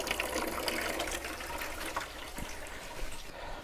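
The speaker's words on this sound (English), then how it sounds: "Now it's filling a bucket for me" Water runs into a bucket in a greenhouse, a faint steady splashing gush that continues evenly throughout with no talking.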